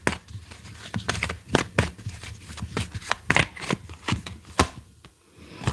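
Everyday Witch Tarot cards are shuffled by hand in a close series of quick riffling and sliding bursts. The flicks and slaps come in uneven rhythm, with no talk.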